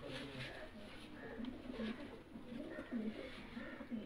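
Purebred pigeons coo in low, repeated throaty bursts at a steady pace, fairly close, with some faint background noise and possible voices mixed in.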